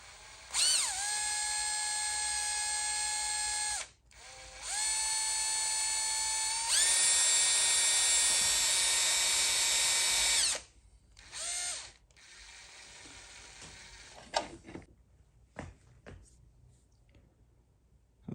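A small 2.5mm drill bit whines at high pitch against the metal crank seal of a Volvo 2.4 D5 engine. There are several sustained bursts close by, then scattered short scraping and clattering sounds.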